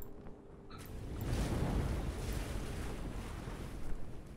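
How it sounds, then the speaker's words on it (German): Gentle ocean waves washing and swelling steadily around a ship in the video game The Room 2, with a windy rush and soft creaks, no voices. "Draußen schaukeln die Wellen."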